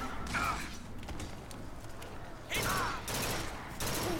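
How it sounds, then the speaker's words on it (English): Burst gun firing in Bioshock Infinite, dense rapid clusters of gunshots in two loud stretches separated by a quieter gap, with mechanical creaks and whines mixed in. "it's a burst gun"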